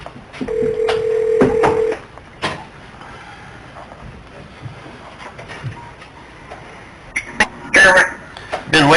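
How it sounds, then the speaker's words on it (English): Touch-tone keypad beeps sound over a speakerphone during a Board of Works meeting: a steady tone at the start, then several short, loud beeps near the end. People talk in the room throughout. "I'm going to get Jeremy on the phone here"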